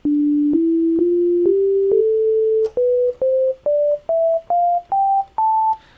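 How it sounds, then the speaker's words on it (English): Pure, clean synthesizer tones step upward one note at a time, first sustained and joined, then as short separate beeps climbing steadily in pitch. "Now this kind of sound, sine waves, they're very useful for bass sounds."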